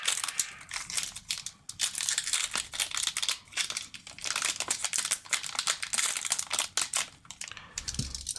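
Crinkly plastic wrapper of a sports trading card pack being peeled and torn open from the bottom, a steady run of close, dense crackling and crumpling for several seconds with brief pauses.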